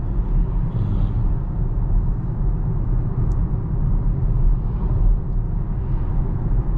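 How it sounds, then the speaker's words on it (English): Steady low road rumble from the 20-inch wheels of a 2023 Volvo XC40 Recharge electric SUV cruising, a continuous, even tire hum heard from inside the cabin with no voices. "But the tire noise seems to be pretty good so far."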